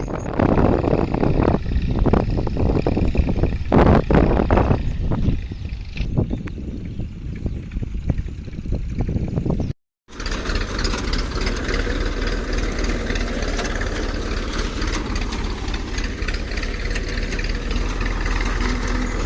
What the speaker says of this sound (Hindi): दोनों ट्रैक्टर चल रहे हैं